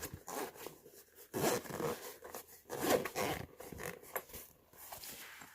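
A unicorn pencil case is zipped up in a few short rasping pulls, close and fairly quiet, with no talking over it.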